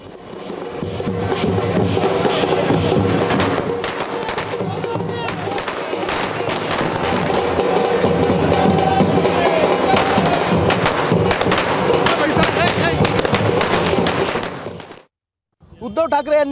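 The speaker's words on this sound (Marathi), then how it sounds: "शिवसैनिकांनी फटाके फोडून जल्लोष साजरा केला" Firecrackers burst in a celebration by Shiv Sena workers in Aurangabad after Uddhav Thackeray's swearing-in as chief minister: a loud, dense, unbroken crackle of rapid pops lasting about fifteen seconds before it cuts off.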